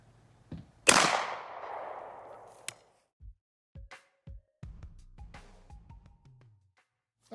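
A shotgun fires a rice-filled round with one loud sharp blast and a lingering hissy decay, followed by scattered clicks and handling knocks of the gun.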